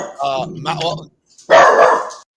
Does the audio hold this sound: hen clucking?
no